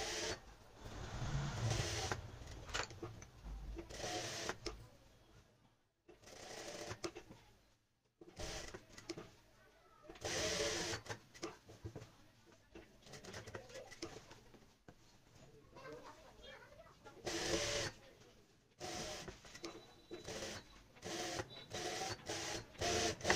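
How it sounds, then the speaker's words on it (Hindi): A sewing machine stitching buckram onto a kurti neck: a steady whirring mechanical run in long stretches broken by brief stops, close and moderately loud, with faint talk at times. "तो यहाँ पे इस तरीके से हमने जो है सिलाई लगा ली है बुकरम के साथ साथ।"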